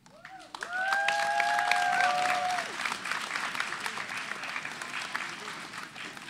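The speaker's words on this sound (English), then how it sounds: "give them another round of applause, please" A school audience at a grade 11/12 spoken word poetry competition breaks into clapping with a couple of sharp whistles, loud at first and then thinning out.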